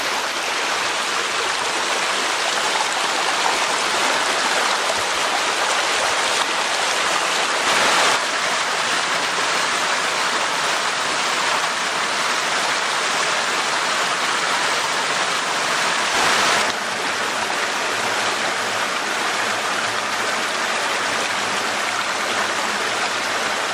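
A small creek flowing along Gold Mine Run, a steady, close, broadband rush of water that continues without pause and with no talking.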